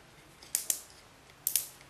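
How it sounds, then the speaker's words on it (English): Revoltech ratchet joints on a Gigan action figure being posed, two pairs of sharp, bright plastic clicks close to the mic over a quiet background. "With Revoltech joints, you can hear the clicky sounds."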